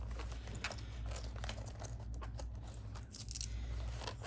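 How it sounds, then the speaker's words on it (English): Loose coins spill and clink, first as a soft shuffling jingle and then as a brighter burst of metal rattling near the end, close and fairly quiet, with a low hum underneath. "let me get my change out"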